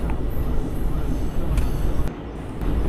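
Janshatabdi Express rolls past slowly on a line near the Penna River, a steady rumbling train noise with a few sharp metallic clanks, heard from aboard another train.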